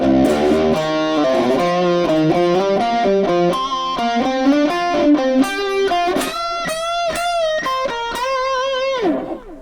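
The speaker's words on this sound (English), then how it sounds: "the licks that we're playing are going to sound like this." Distorted electric guitar plays quick pentatonic licks of bending, sustained notes, moving higher toward the end, with no talking.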